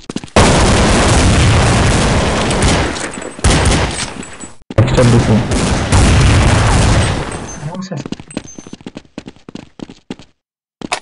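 Counter-Strike 1.6 gunfire on the Dust 2 map: loud sustained volleys and booms for several seconds, a brief gap, then more heavy firing that tapers into scattered distant shots, with voices talking underneath.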